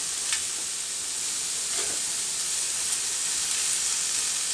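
Shrimp cooking in a hot pan for shrimp Alfredo, giving off a steady, close hissing sizzle with a few faint crackles and no voices.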